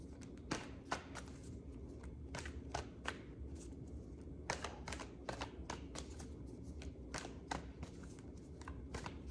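Tarot cards being shuffled by hand, a dense run of crisp riffling flicks and taps that repeats in quick bursts across the whole stretch, close and fairly loud, with no voices.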